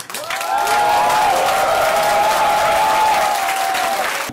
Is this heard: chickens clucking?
no